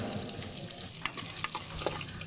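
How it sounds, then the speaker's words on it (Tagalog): Garlic, onion and ginger sauté in hot oil for pinapaitan, giving a steady low sizzle with faint stirring clicks and scrapes, fairly quiet with no talk. "Painit po tayo ng mantika, ilagay po natin ng bawang, sibuyas, luya."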